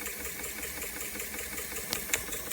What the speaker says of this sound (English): the engine will just be very happy to run at a relaxed pace like this